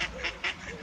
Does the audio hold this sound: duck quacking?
yes